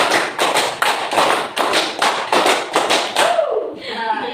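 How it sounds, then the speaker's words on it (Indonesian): Rhythmic hand clapping by a class of pupils in a classroom, repeated sharp clap bursts in a steady counted pattern, loud and close, ending with a brief pause and a few softer sounds. "Tepuk 1, tepuk 2, tepuk 3, tepuk 4, tepuk 5, tepuk 5 2 kali"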